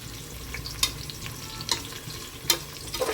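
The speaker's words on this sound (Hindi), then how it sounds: "किशमिश भी बहुत अच्छी लगती है इसमें। थोड़ा सा फ्राई कर लेंगे इसी में" Raisins frying in a pan while cooking matar pulao with whole spices, a soft continuous sizzle with a few brief louder crackles and stirring scrapes, close and fairly quiet.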